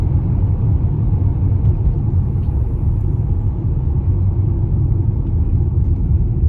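Steady low rumble of a car's engine and tyres as it drives through the city of Kemerovo, heard continuously from inside the cabin with no talking.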